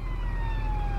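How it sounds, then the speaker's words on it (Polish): A fire engine siren wails steadily through a busy city street, a sustained gliding tone held close and loud over rumbling traffic for the full second. "Wóz strażacki, szybko."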